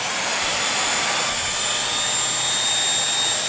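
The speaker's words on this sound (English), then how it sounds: "I am going to test out the performance of the vacuum on the mat" A Bissell Featherweight stick vacuum cleaner runs on a mat, giving a steady, loud motor whine with a broad airy hiss that holds constant throughout and has no talk over it.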